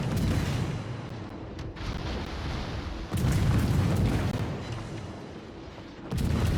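Heavy shell explosions and gunfire rumble through a naval battleship battle in a video game, with loud rolling booms swelling and fading, sharp new blasts striking around three and six seconds, and no voices.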